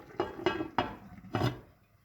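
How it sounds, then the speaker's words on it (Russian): A lid set onto a cooking pot of simmering tomatoes and cumin in a mountain-village kitchen gives four sharp clanks of metal, fairly close and spaced about a third of a second apart, with no voices. "накрываем крышкой"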